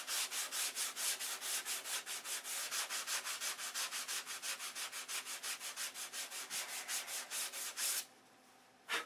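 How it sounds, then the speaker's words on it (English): A hand sands DC 540 primer on a model airplane wing with quick, even back-and-forth strokes, about five per second, close and steady for eight seconds before stopping. "you just sand until it's perfectly flat"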